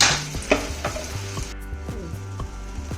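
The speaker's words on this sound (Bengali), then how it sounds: "এবার আমি কোফতাগুলো ভেজে নিচ্ছি।" Ridge gourd and paneer koftas fry in hot oil with a steady crackling sizzle, broken by several soft knocks of a utensil against the pan, close by and with no talk.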